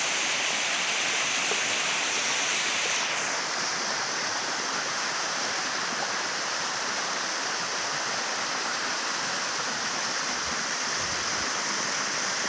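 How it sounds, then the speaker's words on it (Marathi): A jungle waterfall roars in a steady, broadband rush, loud and continuous from start to end, with no speech over it. "हा समोर धबधबा आहे."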